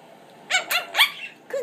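A pet dog gives four short barks and yips in a quick, uneven series, close and fairly loud, the last ending in a brief whine-like fall, with no talking during the sounds.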